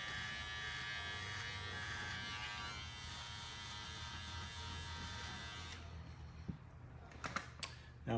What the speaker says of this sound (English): that's when we're gonna go ahead and switch over to our wall cordless detailer